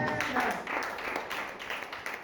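A church congregation applauding during a sermon, brief, dense clapping blended with raised voices and cheering, fairly loud and continuous.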